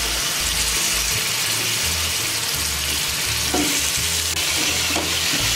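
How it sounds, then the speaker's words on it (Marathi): Drumsticks and potatoes stirred in a frying pan, a steady close sizzle with spoon scrapes and stirring knocks throughout, no talking. "आता हे बघा मी व्यवस्थित असं मिक्स करून घेते"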